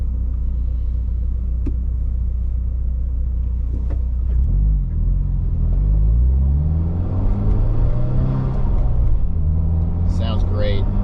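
A rebuilt Subaru WRX engine with a Grimspeed intake is running, a steady low rumble with rising revs toward the end. Someone talks over it throughout.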